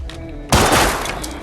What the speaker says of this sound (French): Pull the trigger.